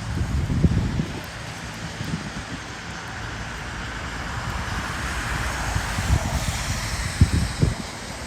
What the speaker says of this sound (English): There might be a little bit more noise from the highway here,